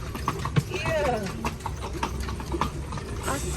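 Horse hooves clip-clopping at a steady walking pace on a street in the Bahamas, close by, with people talking and noisy background throughout.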